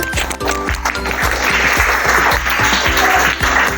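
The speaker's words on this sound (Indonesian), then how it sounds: "Tepuk tangan dulu dari kelompok 3." Classmates in a school classroom clap for a presenting group, a brisk rhythmic burst of fairly loud applause lasting a few seconds.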